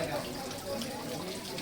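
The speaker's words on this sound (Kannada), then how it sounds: "ಇದು ನಿರಂತರವಾಗಿ ಬೀಳ್ತಾ ಇರುತ್ತೆ ನೀರು." Water falls continuously at the Hanumandhara hill spring beside a Hanuman temple in Chitrakut, a soft, even, low-level trickle and splash with no break.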